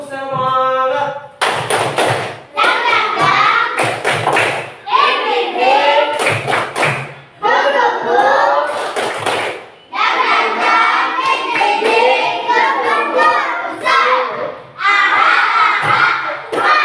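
Classroom of children performing a rhythmic 'tepuk semangat' spirit clap in unison, loud patterned claps mixed with chanting and shouting voices, led by a teacher, repeated in bursts across the clip.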